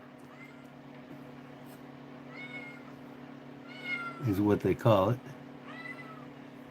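Several domestic cats meow near a steady low electrical hum in a knife-making workshop, starting with scattered faint mews and building into a loud cluster of overlapping cries, while a person talks briefly.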